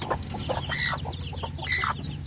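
A native mother hen that brooded Muscovy duck eggs clucks over the newly hatched ducklings, giving a run of short, soft clucks and higher chirping calls close by over a steady low background hum.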